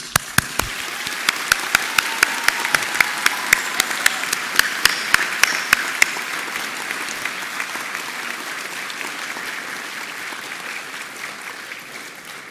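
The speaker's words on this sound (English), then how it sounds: "this is your opportunity, and ours, to thank them for the part they played by a much-deserved round of applause." Graduation ceremony audience applauding university staff, a large hall of steady clapping with a few sharp close claps standing out at the start, then fading slightly as it continues.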